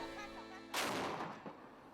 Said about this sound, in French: frissonner au son d'un canon qui, autrefois, les repoussait et qui tonne chaque jour à midi